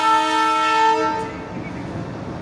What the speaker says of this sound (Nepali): हो ट्रेन हेर्नुहोस् है दार्जिलिङको ट्रेनहरू